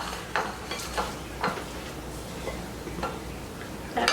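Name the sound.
stirring broccoli in a pan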